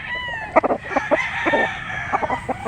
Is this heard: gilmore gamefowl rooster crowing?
yes